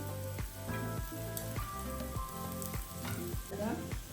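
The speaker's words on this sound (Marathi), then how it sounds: "वड्या माझ्या दोन्ही बाजूनी छान तळल्या गेल्या आहेत कमी तेलामध्ये" Kothimbir vadi (coriander fritters) shallow-frying in a little oil, with a steady close sizzle and repeated soft stirring or turning scrapes throughout, no voices.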